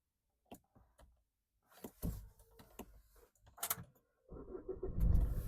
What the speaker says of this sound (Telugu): సింగిల్ సెల్లో బండి స్టార్ట్ అవుతుంది.